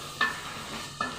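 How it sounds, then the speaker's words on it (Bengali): Masoor lentils fry lightly in a pan with a soft, continuous sizzle. Two quick spatula scrapes stand out briefly from it. "এই যে এখানে আমি মসুর ডালগুলো দিয়ে নিলাম"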